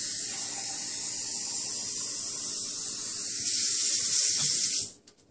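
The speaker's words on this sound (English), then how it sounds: "just a little bit of water, which I'll get from the sink over here" Tap water runs steadily into a kitchen sink, a continuous hiss that swells louder near the end before the flow is shut off and stops abruptly.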